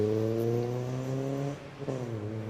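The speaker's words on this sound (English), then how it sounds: "makes way for Oliver Chilton in another Mazda MX-5" Mazda MX-5 race car with a detachable hard top climbing the Prescott speed hill climb course, its engine droning steadily and loudly close by before easing off and picking up again near the end.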